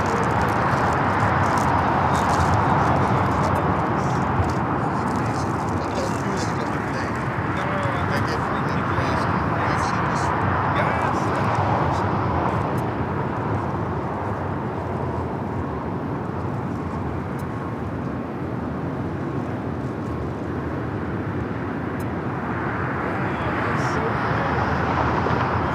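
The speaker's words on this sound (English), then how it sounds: "A380 Super now rolling down to 24 left" An Airbus A380 on its takeoff roll down runway 24 left at LAX, heard as a broad, steady jet roar from a distance while people talk over it.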